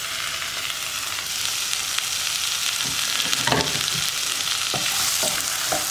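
Carrot, onion, green chilli, tomato and capsicum stir-fried in a pan for pasta, a bright continuous sizzle with a few spoon scrapes and knocks, close and without talk.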